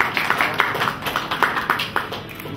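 Applause from an audience welcoming an Italian model at a plus-size fashion event, a steady patter of overlapping claps with light irregular peaks, fairly close and without voices.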